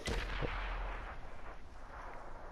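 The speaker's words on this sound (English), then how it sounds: "There is Swamp Fox shooting down there from afar." Artillery fire in a competitive tank battle video game, a heavy booming shot at the start followed by a rumbling, fading tail heard at a distance.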